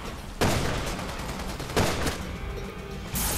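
Gunfire in Resident Evil 6, three loud sharp shots spaced more than a second apart, each with a short ringing tail, close and without talk.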